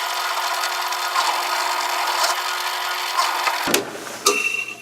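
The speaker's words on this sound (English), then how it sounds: "It's an acrylic bit, got a sharp point on it, and it goes through." Slow drill bit with a sharp-pointed acrylic tip boring through an acrylic workpiece, a steady whirring grind lasting several seconds before the bit breaks through and the motor cuts off, followed by a few brief clicks.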